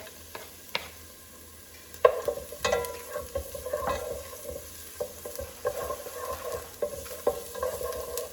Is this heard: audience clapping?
no